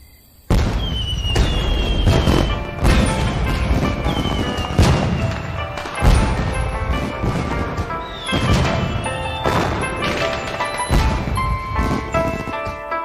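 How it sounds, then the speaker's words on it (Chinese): A fireworks display goes off in a series of loud booming bursts, each explosion followed by rising whistles and crackling sparkle, repeating irregularly and close by. "这是只属于你一个人的烟花"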